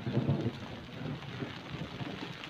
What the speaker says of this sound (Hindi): तेज है इस टाइम बारिश।